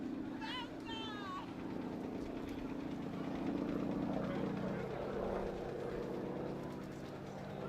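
A Harvard training aircraft at the Daedalus D-Day 80 airshow drones past with a steady propeller engine hum, under a commentator's talk and the chatter of the crowd.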